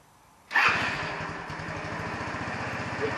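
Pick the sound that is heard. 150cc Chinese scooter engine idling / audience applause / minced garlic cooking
150cc Chinese scooter engine idling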